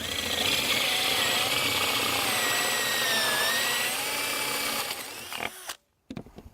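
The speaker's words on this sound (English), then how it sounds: "we're going to drill out a hole" A power drill with a fastener bit whines steadily as it bores a hole through wood, then winds down and stops with a few clunks at the end.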